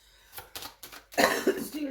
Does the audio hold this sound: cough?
yes